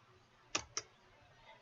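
Two crisp mouse clicks in quick succession on an OK button, close and clear against a quiet background.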